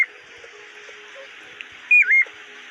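A pet bird gives a short, bright two-part whistle near the end, loud and close, over a steady background hiss with faint scattered chirps.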